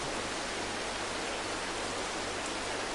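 Rain falls steadily in the Farming Simulator 22 video game, a dense, even hiss that holds constant for the whole stretch with no other sounds.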